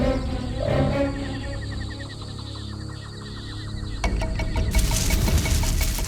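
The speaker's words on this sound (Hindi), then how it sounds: "ध्यान से देख कहाँ है चीता।" A cheetah's low growling roar rumbles among wild jungle ambient sounds, followed by a burst of sharp cracking firecracker noises near the end.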